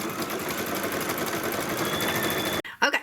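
An embroidery sewing machine stitches a leaf detail on felt, running in a steady fast buzz for most of the clip before stopping abruptly near the end, followed by a couple of brief softer sounds.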